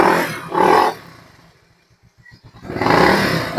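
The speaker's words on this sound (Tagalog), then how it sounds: "So, yung tunog ng tambutso." A Yamaha Mio motorcycle's exhaust roars close by in two loud revving surges, with a low idle between them.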